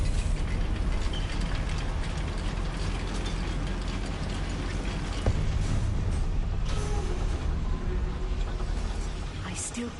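A goblin mine lift mechanism in Hogwarts Legacy grinds on with dense ratcheting, clanking gears and pulleys, loud and continuous, with a few sharper clunks partway through.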